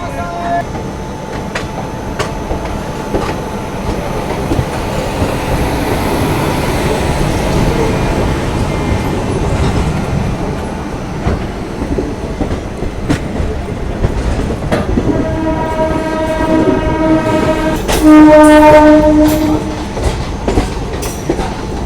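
The Tulsi Express pulls out of Manmad Junction with a continuous rumble and clatter of wheels on rails. Tonal, horn-like sounds ring out near the end, and the train stays loud and close throughout.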